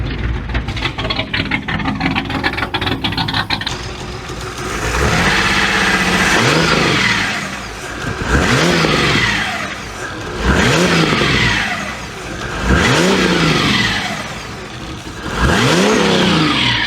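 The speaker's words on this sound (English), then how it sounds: "We might as well give these flamethrowers a crack." A rat rod engine revs repeatedly to set off exhaust flamethrowers, first running at a rough rumbling idle, then rising and falling through five loud, close revving surges with no talk.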